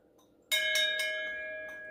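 A wooden-handled brass bell is struck once, giving a bright metallic clang with clear ringing overtones that hang and slowly fade, with no talk.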